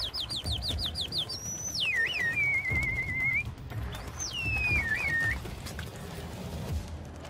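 A man whistles to call homing pigeons back to their loft, giving a quick run of repeated chirpy whistles followed by long sliding whistled notes, clear and fairly close over low background rumble.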